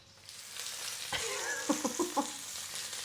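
Bread and fresh sausage fry in a pan with a soft, steady sizzle, joined by a few distinct pops and spatters near the middle of the stretch.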